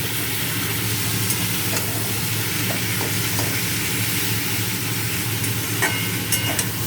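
Poppy seed paste fries with potatoes and drumsticks in a pan, a steady close sizzle with occasional stirring scrapes and ticks throughout, no voices.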